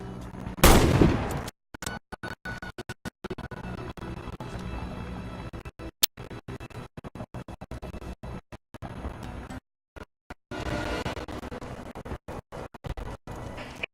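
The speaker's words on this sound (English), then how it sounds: "some missions, you can use a rocket launcher" Rocket launcher and gunfire in the video game Warface, with a loud blast near the start followed by repeated sharp shots and bursts over a steady battlefield background, with another dense stretch near the end.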